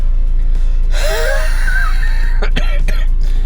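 A runner who uses an inhaler breathes hard right after a run: one long, wheezing, gasping breath up close, then a few quicker, sharper gasps, all loud over a constant low hum.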